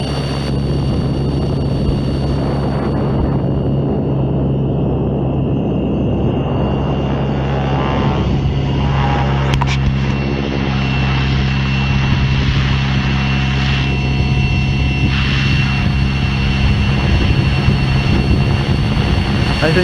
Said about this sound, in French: Voilà, l'hélico va revenir.